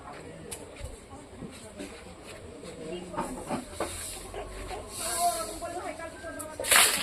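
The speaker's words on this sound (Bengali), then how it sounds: "সর্ষে শুকনো লঙ্কা তেজপাতা ফোড়ন দিলাম" Mustard seeds, dried chilli and a bay leaf hit hot oil, producing a hissing sizzle dotted with small pops and crackles that swells toward the end, with a voice speaking over it.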